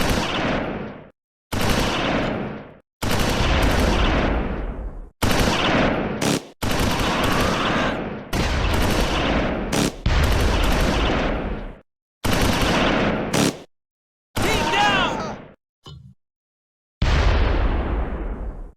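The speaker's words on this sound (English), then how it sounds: "Powell's gun is under fire, and Powell is killed" Gunfire in the Close Combat 4 Battle of the Bulge video game, repeated bursts of machine-gun and rifle fire with sharp onsets and short decays, separated by brief silences, loud and close.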